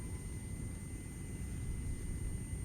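An Afghan helicopter flies in ArmA 3, giving off a constant, moderately loud rotor and engine drone with steady low pulsing throughout. There is no talk.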